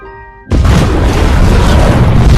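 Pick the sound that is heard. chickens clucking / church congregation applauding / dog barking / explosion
explosion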